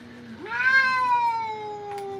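A Ragdoll cat lets out a single drawn-out meow during a grooming session, rising then slowly falling in pitch, close and clear with nothing else over it.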